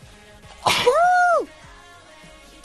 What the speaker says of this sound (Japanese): くしゃみ出そうです。